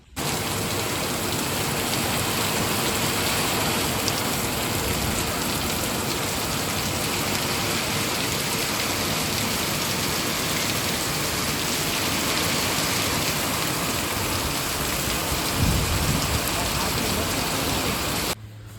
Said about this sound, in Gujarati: અંધાધાર વરસાદ વરસતો હતો તમે જોયું ને